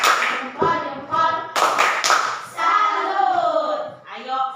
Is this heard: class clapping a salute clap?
yes